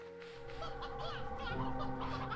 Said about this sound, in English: Here's a rooster.